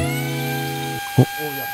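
A homemade powder sprayer's small motor whirs with a steady, high-pitched hum, then cuts off abruptly, followed by a short thump and some faint rattling.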